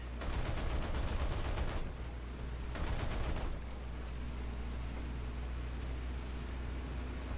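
An anti-air tank's cannons fire in War Thunder during a realistic tank battle, coming as two loud, rapid, crackling bursts of automatic fire, the first long and the second shorter, followed by a steady rumbling drone.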